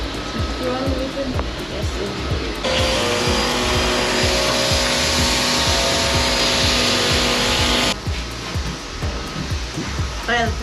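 A homemade vacuum-powered Lego engine chugs in a steady, fast rhythm, and a loud whooshing vacuum roar swells over it through the middle stretch before dropping away. A voice speaks briefly.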